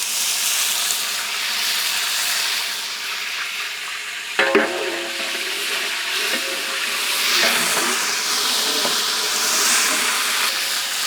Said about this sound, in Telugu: నూనె వేడైన వెంటనే యాలకుల పొడి, పట్ట, బ్లాక్ ఇలైచి, ఇంకా లవంగాలు యాడ్ చేద్దాం.